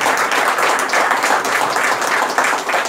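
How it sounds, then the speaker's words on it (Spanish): Loud, sustained audience applause at the Anfa 2021 football awards ceremony, many hands clapping densely and evenly across the whole stretch with no speech on top. "un aplauso."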